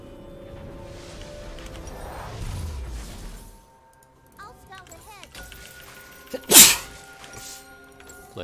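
A single sharp, loud sneeze bursts out near the end during a ranked League of Legends match, set against quieter game sounds and background noise.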